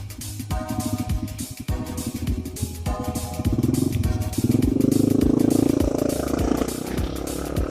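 A TVS Jupiter scooter engine runs nearby on a mountain ride toward Gangotri, a low putter with rhythmic clattering that builds into a louder, steadier drone partway through.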